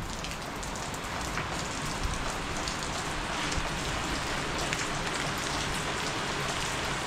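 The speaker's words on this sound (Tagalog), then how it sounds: "bumagsak yung malakas na ulan" Heavy rain pours steadily onto a surface, a dense, constant hiss with scattered drops and no voices.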